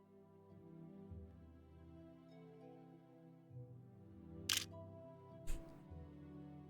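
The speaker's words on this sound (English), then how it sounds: "camera shutter sound effect to grab" Two crisp camera shutter clicks about a second apart ring out over soft, sustained background music, each a brief, sharp snap standing clearly above the quiet bed.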